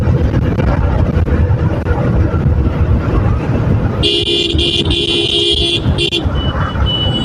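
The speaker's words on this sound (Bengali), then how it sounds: "বিনা কারণে গাইস হর্ন মারে" A car horn blares in traffic in a few sharp toots, one long and the others short, cutting through steady road and engine noise.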